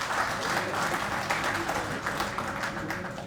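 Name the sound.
audience applause welcoming the speaker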